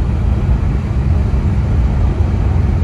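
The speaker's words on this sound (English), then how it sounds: "Let's let the engine do most of the work going down this." A car descends a snowy mountain road in a low gear with engine braking, giving a steady, loud low rumble and drone from inside the vehicle that stays even throughout, with no voices.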